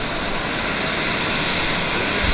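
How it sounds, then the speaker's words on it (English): An Air Canada CRJ regional jet departs Vancouver Airport for Regina in strong winds, its engines a steady, loud broadband roar that holds throughout, with no voices. "CRJ is heading to Regina. That is the Air Canada 8192."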